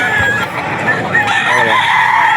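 A National Banded rooster crows loudly and close at an auction market, with clucking fowl around it and faint chatter behind.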